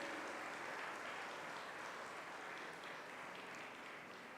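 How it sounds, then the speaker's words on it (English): A large audience at a design week inauguration ceremony gives sustained, even applause for distinguished guests, a steady dense roar of clapping heard from a distance with no voices over it. "one more round, a huge round of applause for all our amazing,"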